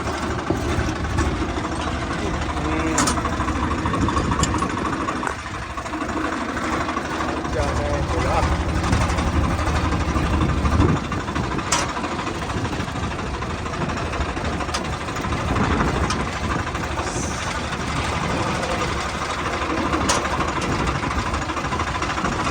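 A tractor engine idles with a steady, rough low rumble and knocking, close by, while people talk over it; the tractor is caught in wires.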